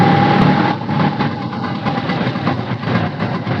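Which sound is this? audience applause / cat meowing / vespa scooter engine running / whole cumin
vespa scooter engine running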